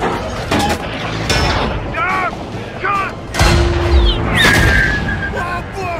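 In a war film battle between American Sherman tanks and a German Tiger, booming cannon shots and explosions sound amid shouted commands and whistling, screeching effects, loud and close.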